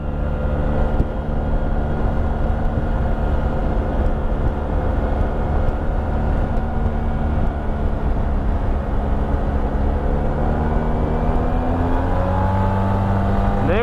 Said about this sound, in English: when you are riding, even with the stock exhaust, there's a few little pops and backfires.